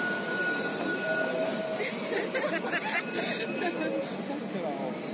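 Trams and trains rumble past on a busy street in Milan, a steady rolling din with clanks and screeches, mixed with crowd chatter close by.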